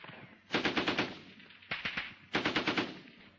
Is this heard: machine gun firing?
yes